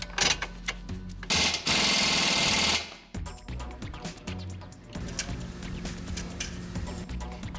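Strut lower mounting bolts being tightened on a 2001 Toyota Camry during a Monroe Quick Strut installation, heard as bursts of rapid mechanical rattling from an impact tool, one long loud run, then shorter choppy bursts with clicks.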